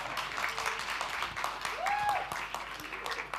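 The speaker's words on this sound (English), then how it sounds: "I was hoping for a louder clap than that." Audience applause from a conference hall crowd, a steady dense patter of many hands clapping at moderate volume for the whole stretch, with faint voices mixed in.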